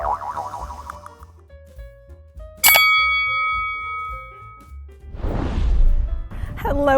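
Bright notification-style ding with a sharp attack and long ringing tail, preceded by boingy tones and followed by a whoosh-like burst, loud and isolated.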